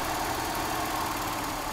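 A Mercedes W123 230E petrol engine idling during mixture adjustment, its steady mid-pitched hum holding even and close with no voices.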